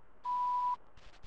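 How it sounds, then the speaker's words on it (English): An answering machine in a horror video game gives one clean, steady electronic beep lasting about half a second, followed by faint soft rustles. "Please leave your name and phone number after the beep."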